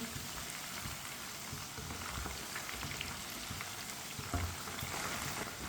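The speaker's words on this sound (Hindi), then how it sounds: "ये बहुत ही आसान तरीका है चिकन फ्राई करने का" Chicken frying in a pan for a Hyderabadi chicken biryani, giving a steady, dense sizzle and crackle that runs evenly throughout with no talking.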